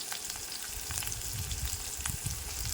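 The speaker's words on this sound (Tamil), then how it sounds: "வெங்காயம் நல்லா வணங்கிட்டுருக்கு" Onions sautéing in a pan with salt, giving a steady close sizzle and crackle with faint stirring scrapes, no voice heard.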